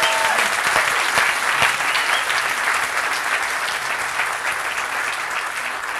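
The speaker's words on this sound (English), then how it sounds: "So Marie, a round of applause." A crowd claps steadily in warm, sustained applause, dense and even throughout with no voices standing out.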